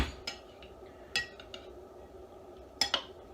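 A spoon scrapes and clinks against a pot while warming beans are stirred, sounding as a few sharp metallic taps spaced out over a quiet kitchen background.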